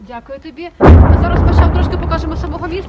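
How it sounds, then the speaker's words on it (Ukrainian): Heavy artillery fire in Bakhmut, a sudden loud nearby blast followed by a long rumbling roll, with someone speaking before and over it. "Ви щойно це чули важка артилерія."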